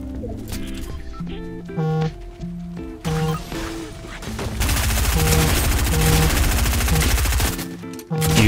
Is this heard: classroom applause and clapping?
no